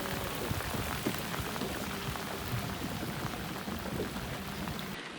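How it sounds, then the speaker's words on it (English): Fall rain in Alaska pours down steadily outdoors, a dense, even hiss of drops with scattered close patters, continuous and fairly loud, with no one speaking. "it rains a lot"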